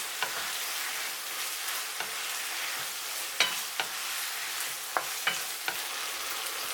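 Beef and fresh chili stir-frying for Mongolian beef, a steady close sizzle broken by sharp clicks and scrapes of a spatula against the pan, with no voices.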